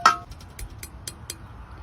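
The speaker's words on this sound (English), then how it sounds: "That's the sound of some solar dehydrated peels." Light, dry rattling and crinkling of solar-dehydrated citrus peels: a few brittle clicks and shakes spread over a couple of seconds, close and fairly quiet, with no talking.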